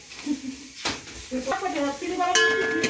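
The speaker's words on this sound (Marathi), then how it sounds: "कांद्याला चांगलं भाजून घ्यायचं बरं का, नाहीतर कच्चा कच्चा लागतं दाताला" Onion frying in a pan for a crab dish, a soft sizzle with stirring and scraping of utensil against the pan, under a person talking.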